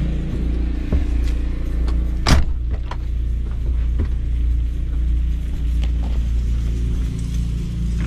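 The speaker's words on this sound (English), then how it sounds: "With some noisy generators." A steady low engine drone hums throughout from generators running in the distance at an RV site, with a few faint clicks and one brief sharper knock.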